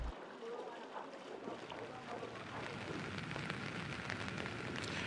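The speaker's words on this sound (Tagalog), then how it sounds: "ganito lang naman ang patak ng ulan dito, paambon-ambon" Light drizzle falls over a flood-hit rural area, a faint, steady soft hiss of fine raindrops that continues evenly without any distinct individual drops.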